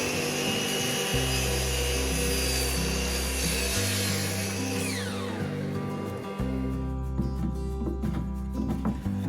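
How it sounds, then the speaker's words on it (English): A router cuts a beveled edge along a clear pine panel, its steady high whine running loud and close while the motor tone shifts between speeds, with the cut tapering off near the end. "I route a beveled edge on the outside exposed corner"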